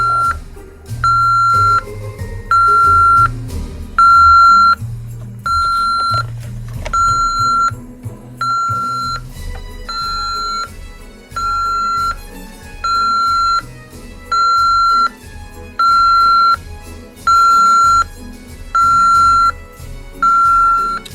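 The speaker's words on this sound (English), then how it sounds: "And we got the backup signal." Loud electronic backup-signal beeps from a 1994 Hess rescue toy truck repeat at an even pace, each tone held about half a second, alongside a lower hum and a looping tune.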